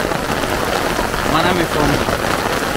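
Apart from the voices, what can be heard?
heavy rain falling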